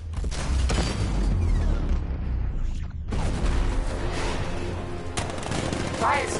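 Batman: Arkham Knight gameplay: the Batmobile's 60mm cannon fires in loud, repeated booming bursts with a brief pause between volleys, while mechanical game sounds and faint voices sit underneath.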